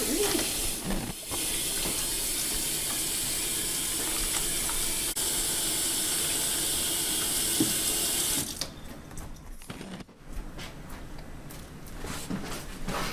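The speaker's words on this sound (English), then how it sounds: "first step always, we're going to wash our hands. Throw on the water." Tap water runs steadily into a kitchen sink for handwashing before cooking, a loud continuous splashing hiss for about eight seconds that then drops to a softer, broken trickle.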